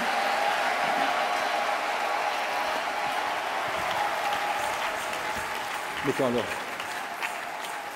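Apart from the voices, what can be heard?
audience applause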